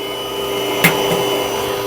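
An electric mixer whips Italian meringue for macarons, a loud, steady motor drone close up, with a brief knock of the beaters against the bowl partway through.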